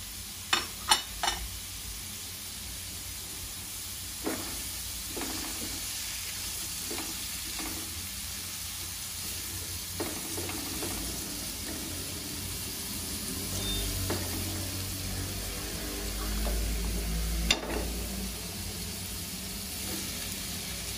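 Steamed chicken frying on a gas stove, a steady close sizzle of hot oil broken by occasional clinks and stirring scrapes from a utensil, with no talking.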